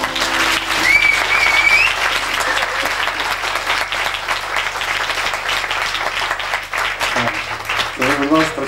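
Sustained, loud audience applause in a concert hall, steady clapping throughout with a few brief tonal sounds near the end.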